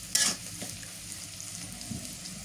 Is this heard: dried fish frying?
yes